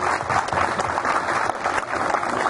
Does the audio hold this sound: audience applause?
yes